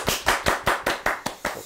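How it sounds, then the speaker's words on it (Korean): Applause in a studio: about nine crisp, evenly spaced claps in steady rhythm, close and fairly loud, with no talking. "오늘따라 유난히 박수 소리가 큰 것 같은 게 왜 들까요?"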